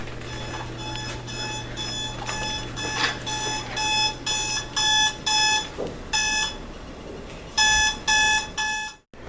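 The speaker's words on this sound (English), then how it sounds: "my roommate alarm just keeps waking me up" Alarm clock ringing in repeated bursts of bright electronic beeps, pulsing on and off in a steady rhythm, close and loud, ending abruptly.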